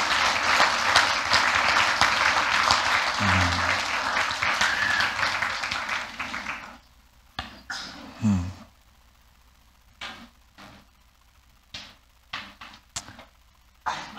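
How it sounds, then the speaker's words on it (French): A church congregation applauds together in sustained, dense clapping for about seven seconds, then it fades into scattered claps and brief voices. "Est-ce qu'on peut applaudir le Seigneur?"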